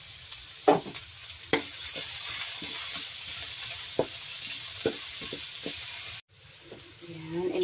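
Chopped onion and garlic sizzle in a hot pan for a beefsteak. The frying hiss runs steadily, broken by several sharp clinks and scrapes of stirring.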